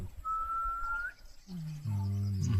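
At Udawalawe National Park, Sri Lanka, a person whistles one long, steady high note, then a lower, fuller tone follows briefly.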